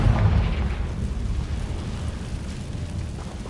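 The Confringo spell explodes in Hogwarts Legacy with a deep, rumbling boom that hits hard at the start and then fades into a low rolling tail, close and heavy.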